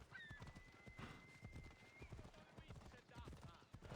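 Horse hooves clip-clop at a steady trot in Assassin's Creed Odyssey, with a brief whinny and game ambience, close and continuous under faint background sounds.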